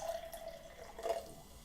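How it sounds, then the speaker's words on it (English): J.J. Whitley Nettle Gin is poured into a glass with a faint, close trickle and a couple of small liquid drips and splashes, in a quiet room. "So we can pour a decent one."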